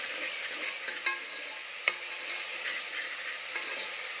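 Onion fries with ginger garlic paste in a pan for Kolhapuri mutton sukka, a steady close sizzle broken by a couple of sharp clinks from a spoon stirring.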